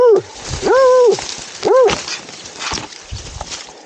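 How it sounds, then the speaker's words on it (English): A deer-tracking dog barks outdoors, three loud, close, drawn-out barks with whining, while rain patters on the ground around it. "Just follow the barking."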